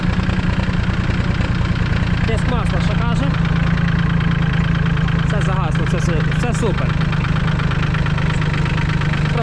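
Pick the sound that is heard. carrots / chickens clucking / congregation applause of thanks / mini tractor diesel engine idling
mini tractor diesel engine idling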